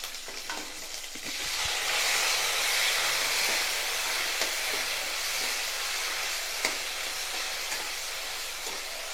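Small onions and chopped tomatoes sauté in a pan for brinjal kara kuzhambu, a steady close sizzle with light stirring scrapes and occasional taps, no voices.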